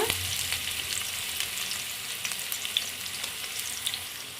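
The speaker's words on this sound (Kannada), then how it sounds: "ಆನಿಯನ್ನು ಆದಷ್ಟು ಚೆನ್ನಾಗಿ ಫ್ರೈ ಮಾಡ್ಕೋಬೇಕು" Onions frying in a pan for chicken fried rice, a steady, fairly faint sizzle with occasional soft crackles and light stirring, no voices.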